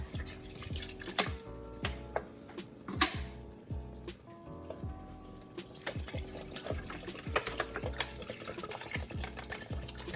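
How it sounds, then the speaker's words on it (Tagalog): Water pours and splashes into a pot of oxtail curry, with a steady liquid trickle broken by repeated drips and clinks close by, running for several seconds. "So, tapos lagyan na natin ng tubig"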